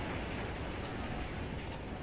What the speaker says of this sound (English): It sounds like a train just going off in the distance, as if we disconnected from the main train